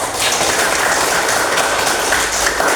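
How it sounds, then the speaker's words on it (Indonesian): Children in a classroom clap together once more, a steady, dense patter of many hands that holds for a few seconds with no voices over it. "Bagus, tepuk tangan sekali lagi"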